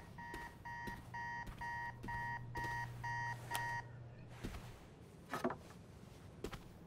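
An alarm rings in Marvel's Spider-Man 2 with rapid, evenly spaced electronic beep bursts over a low hum for about four seconds, then cuts off, leaving scattered soft thumps and knocks.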